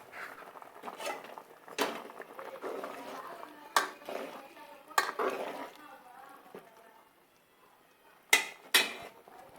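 Vermicelli roasted earlier goes into a pan of pasta payasam and is stirred in, giving soft scraping and a few sharp metal spoon knocks against the pan amid quiet bubbling and kitchen patter.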